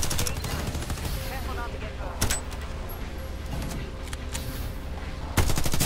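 Rapid automatic gunfire bursts from the video game Farlight 84 in a dense, loud stream that runs nearly continuously, with a brief jump in intensity partway through and a harder burst near the end.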